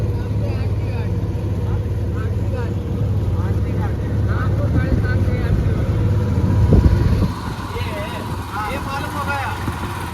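A steady boat engine drone runs throughout on the Sarayu River at Ayodhya, with people talking over it and a brief louder surge near the end.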